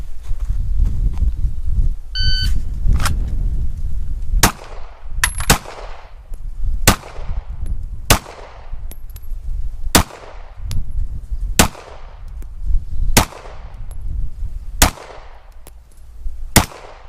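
Gunshots during a timed shooting drill run, a loud series of about a dozen sharp, evenly spaced reports with ringing decay, following a quieter shuffling start.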